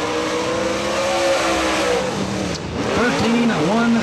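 Race car engine on a qualifying lap at Atomic Speedway, the white number 3 car, droning steadily with rising and falling pitch sweeps as it passes, under a public-address announcer talking throughout.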